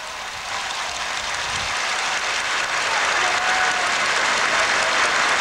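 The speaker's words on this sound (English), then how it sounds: "Big applause from everybody in the stadium." Big stadium crowd applauding at the NDP 2003 National Day Parade, a broad, steady wash of clapping that swells slightly and holds loud throughout, with no talk over it.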